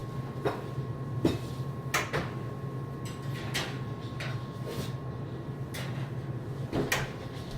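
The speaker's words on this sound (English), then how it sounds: "I'm going to put both loaves in the oven now" Two bread loaves go into a preheated home oven: a series of close, sharp clanks and knocks from the door and rack, spaced irregularly, over a steady background hum and no talk.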